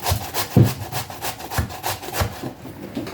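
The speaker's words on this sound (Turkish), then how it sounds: "Şimdi önce patateslerimi rendeleyeceğim. Küçük tarafıyla rendeliyorum." Raw potatoes are grated on the small side of a grater, making rhythmic rasping strokes about twice a second, close and fairly loud, with no talking.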